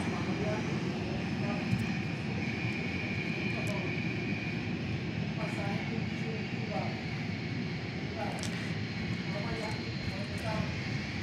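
Cessna Citation Latitude jet at Dallas Love Field, its engines giving a steady, distant roar and whine that holds evenly throughout.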